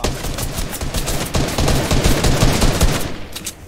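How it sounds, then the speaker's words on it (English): Assault rifle fire in the video game Fortnite: loud, rapid bursts of automatic shots, close and continuous for most of the few seconds before tapering off at the end. "I'm just firing my AR right now."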